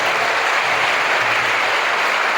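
Applause from a large audience at a pesantren event with hundreds of participants, a dense and steady wash of clapping that holds for the whole stretch without a break.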